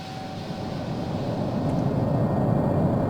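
Lockheed F-104G Starfighter jet in a flight simulator, flying a foggy low-level run through the Mach Loop: a steady, broad roaring engine rumble that builds gradually louder over a few seconds, with no talking.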